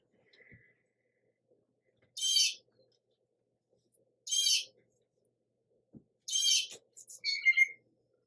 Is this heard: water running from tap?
no